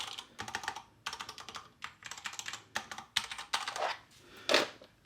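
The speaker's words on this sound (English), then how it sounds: "Yeah, so the keyboard feels good, action, nice sound." Bursts of typing on a DURGOD Fusion mechanical keyboard, close and crisp, with rapid clustered keystrokes separated by short pauses and a few louder clacks near the end.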